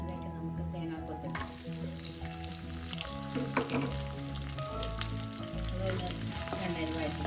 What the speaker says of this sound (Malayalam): എണ്ണയിൽ വഴറ്റിട്ട്